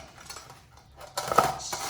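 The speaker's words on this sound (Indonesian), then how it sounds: "Sekarang saya serut dulu buah-buah ini. Saya mulai dengan belimbing." Star fruit shredded on a grater for rujak, resting against a pot: quiet scraping at first, then a louder, rougher burst of rasping grates in the second half, with no talking.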